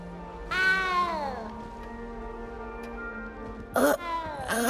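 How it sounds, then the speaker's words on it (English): A cat in the Hogwarts Legacy video game gives two drawn-out, wavering meows near the start, then two sharper, louder mews near the end, close and clear over a quiet game background. "You don't need to be It's all right. frightened, little cat."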